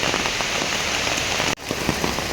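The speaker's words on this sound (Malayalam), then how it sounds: "നല്ല മഴ." Heavy rain pours steadily on a road where someone walks, a dense even hiss close by, broken only by a brief dip before continuing; no one speaks.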